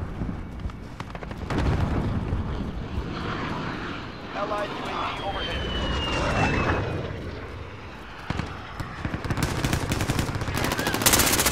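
Enemy VTOL aircraft roars overhead in a Call of Duty: Modern Warfare match, its engine drone sustained beneath bursts of gunfire and a clear passing whine, with players talking over the action.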